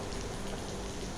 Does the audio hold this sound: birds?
no